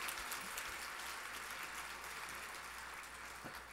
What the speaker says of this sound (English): Give Nancy a round of applause for that